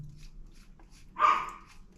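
A puppy gives a single short, sharp bark partway through, close and clear against a quiet room with faint background noise.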